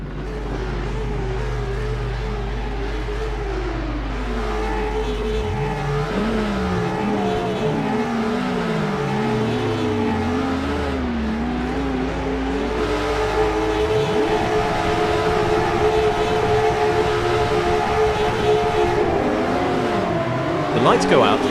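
Race cars in Assetto Corsa GTR Legends, including a Ford Capri, roar off the start at Apricot Hill, engines rising through gears and overlapping as the pack accelerates, loud and close, with a commentator talking over them.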